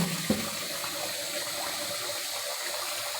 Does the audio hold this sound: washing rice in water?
yes